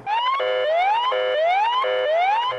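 Simulated siren sounding across a military sniper competition course, loud and close, with a rising wail that repeats about four times in quick cycles and a steady tone beneath it.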